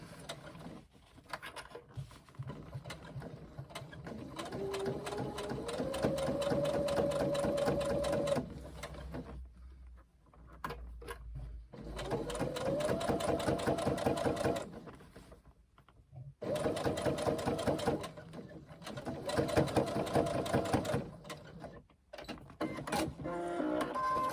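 A sewing machine edge-stitches a narrow seam closed across the opening of a tote bag, running in long steady bursts with a rising motor whine, pausing twice between runs.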